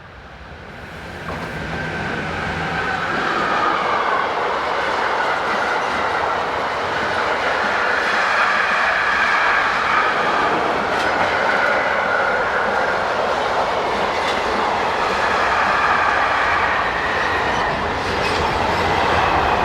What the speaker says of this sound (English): 185, 185 and 186 provide the power for this eastbound freight